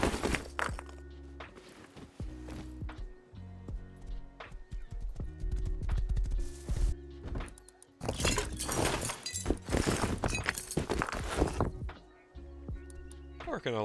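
Hooves clop steadily at a walking pace throughout in the video game Rust, with scattered clinks and crunches mixed in and a steady, busy game-like background.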